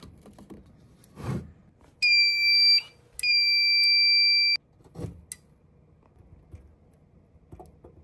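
A System Sensor L-Series fire alarm sounds two loud, piercing electronic tones, a short one followed by a longer one, with quiet handling noise before and after.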